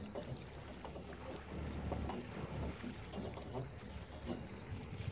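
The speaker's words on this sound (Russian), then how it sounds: "Ты нагрузку на мотор большую не давай, Олег." A small boat's outboard motor runs steadily on open water during a first launch, a continuous moderate drone with wind buffeting the microphone and no talk.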